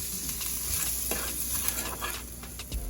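Meat pie filling with red pepper frying in a pan gives a steady close sizzle, with a few soft stirring scrapes and clicks breaking through.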